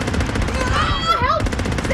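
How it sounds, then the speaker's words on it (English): Gunfire in an underwater multiplayer survival video game, a continuous rapid automatic rattle running beneath a gliding tonal effect, loud and close. "Everybody's shooting!"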